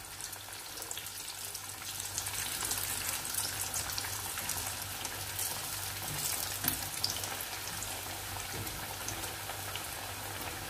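Breaded eggplant cutlets fry in a pan of oil, a continuous close crackling sizzle with fine bubbling that stays even throughout, no voices.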